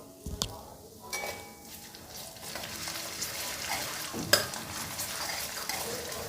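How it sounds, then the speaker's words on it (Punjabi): Onions with coarsely crushed ginger, garlic and green chili frying in a pan, a steady sizzle broken by scraping stir strokes and a few sharp utensil knocks, close and fairly quiet with no talking. "ਚੰਗੀ ਤਰ੍ਹਾਂ ਹਿਲਾਉਂਦੇ ਹੋਏ ਆਪਾਂ ਸਾਰੀਆਂ ਚੀਜ਼ਾਂ ਨੂੰ ਪਹਿਲਾਂ ਭੁੰਨ ਲੈਣਾ"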